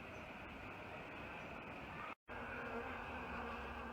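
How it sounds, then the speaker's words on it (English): Bees buzzing around a Neobuxbaumia polylopha cactus in the morning, a steady, dense swarm hum that continues throughout, broken only by one brief moment of silence. "the bees have woken up and have come to start harvesting on the Neobuxbaumia polylopa"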